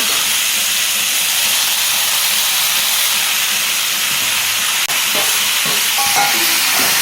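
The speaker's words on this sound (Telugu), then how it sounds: "ఇప్పుడు టమాటా కూడా వేస్తాను." Tomatoes go into a hot pan for a dry fish curry with ridge gourd, giving a loud, steady hiss and sizzle that carries on without a break, with faint stirring noises near the end.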